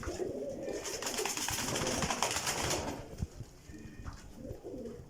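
Pigeons coo and rustle close by in a rooftop loft in Kotli, Azad Kashmir, with a burst of wing flapping early on before quieter cooing.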